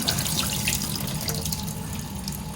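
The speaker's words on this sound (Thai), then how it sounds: "ดิฉันซาวแบบเดิม ๆ เทน้ำออกมา" Rinse water pours out of a pot of washed Thai rice in a steady, splashing stream close by, with no talking.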